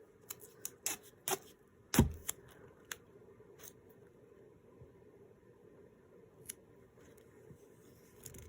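Paper or duct tape being cut for a junk journal cover, a handful of sharp snips and crisp clicks early on, one louder near snap, then sparse faint ticks against a quiet room.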